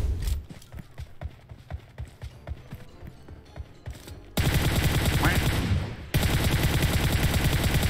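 Rapid gunfire in PUBG Mobile cracks in quick repeated bursts, then gives way to a loud, sustained roaring wash of noise that cuts out briefly and resumes.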